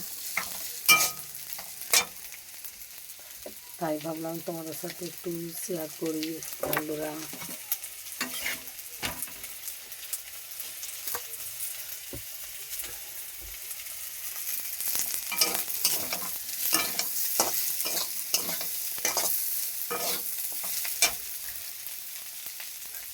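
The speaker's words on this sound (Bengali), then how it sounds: "এখানে আলু ভাজা হচ্ছে, আলু সিম ভাজা।" Potatoes and flat beans fry in a pan, a steady soft sizzle with scraping stirs and clinks throughout, while someone speaks briefly and a short burst of voices rises near the start.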